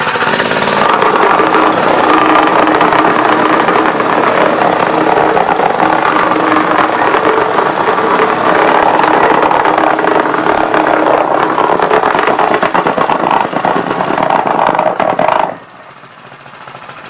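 A Mikasa MVH-206GH hydraulic-controlled plate tamper from Multiquip runs its engine close by, a loud steady pounding vibratory drone that holds for about fifteen seconds, then drops abruptly to a quieter idle.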